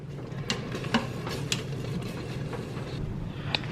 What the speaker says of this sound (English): I'm going to go ahead and give it